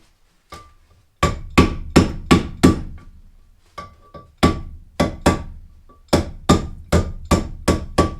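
A hammer taps the lid back onto a half-used can of wood stain, striking in quick bursts of three to five sharp, ringing blows separated by short pauses, close and loud with no talking.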